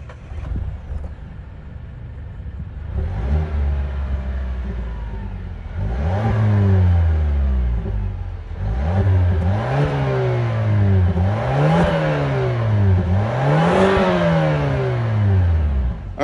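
A 2021 Mazda CX-5 Signature all-wheel drive with a 2.5-liter turbo four-cylinder and dual exhaust starts up, settles to idle, then is revved several times in rising and falling sweeps, loud and close with no talk.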